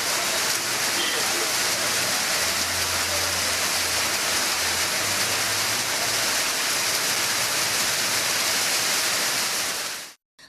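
Heavy rain pours down in Tenkasi, Tamil Nadu, making a loud, dense, unbroken roar that holds steady for about ten seconds before cutting off abruptly.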